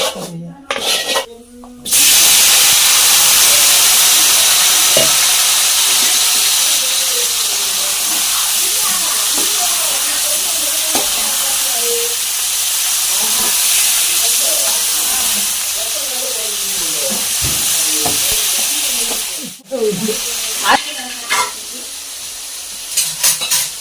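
A mixer grinder (mixie) whirs steadily while grinding tomatoes for a chutney, a loud continuous hissing roar running for about twenty seconds before briefly cutting out, with a voice talking over it.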